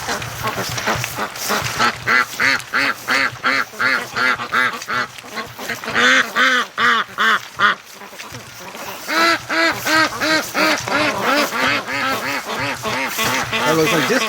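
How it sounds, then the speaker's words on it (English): Ducks, both a female and a male among them, quack loudly and repeatedly in close bursts at a lake during a free-range feed run, with a brief lull midway before the rapid calling resumes. "That looks like disco duck over there."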